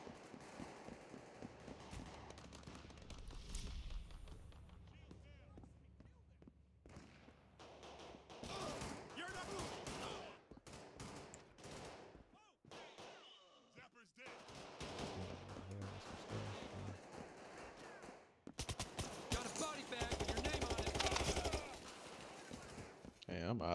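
Rapid bursts of gunfire from a shooter game, Payday 3 on Xbox Series X, crackle through the scene, with louder sustained volleys near the end and a player talking between shots.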